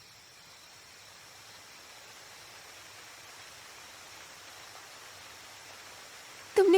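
A waterfall in an anime scene, rendered as a steady, even broadband rush of falling water that holds constant throughout, ending in a brief louder burst at the close.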